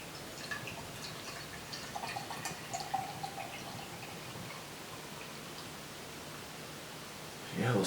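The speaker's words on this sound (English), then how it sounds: "we'll pour this beer" Green DIPA beer from Salt Beer Factory pours into a glass with a soft, steady fizzing rush that continues for several seconds and ends in a louder burst.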